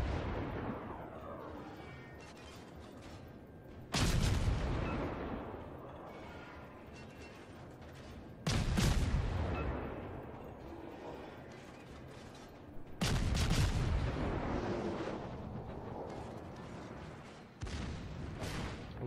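Several booming naval cannon blasts from the video game World of Warships, fired by the destroyer Anshan, spaced a few seconds apart, each followed by a long rumbling decay over a low mechanical hum.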